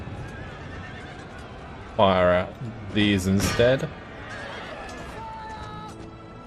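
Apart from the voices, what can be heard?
horses neighing in a video game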